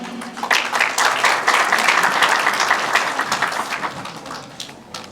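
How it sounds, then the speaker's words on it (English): An audience at a formal opening event bursts into applause, a dense wash of clapping that swells quickly, holds steady, then gradually tapers off. "Please clap for him."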